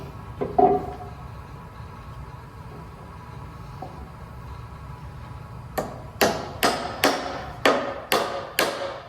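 Quiet room tone, then a run of sharp hammer blows striking a nail into wood, about seven evenly spaced hits growing steady.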